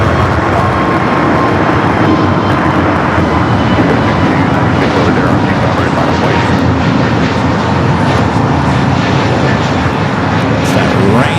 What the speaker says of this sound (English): Got that Frontier A320 Neo now heading down that 25 at right.